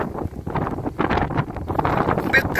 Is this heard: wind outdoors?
yes